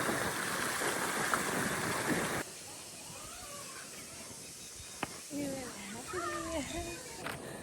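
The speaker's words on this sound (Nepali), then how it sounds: "यस्तो मजाको पानी झर्छ नि, यहाँनिर पानी जान्छ नि" A stream rushes steadily nearby for a couple of seconds, then the water noise drops away and people talk over a quieter background.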